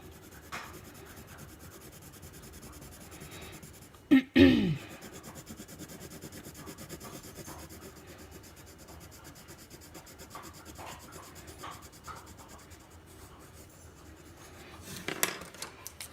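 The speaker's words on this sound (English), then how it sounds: "So since I chose red, I'm going to color in 9 squares that are red." A red marker colors in squares on paper with a steady, soft scratchy rubbing that runs throughout, broken by one brief louder knock partway through.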